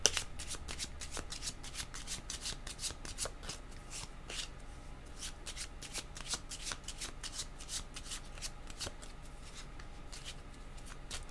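A deck of cards is shuffled continuously at close range, a steady run of crisp riffling flicks and soft slaps lasting the whole stretch with no talk over it.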